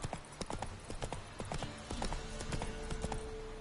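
Horse hooves clip-clop in The Witcher: Wild Hunt, a steady run of sharp, fairly close hoofbeats at a walking-to-trotting pace, with faint game ambience beneath and no talk.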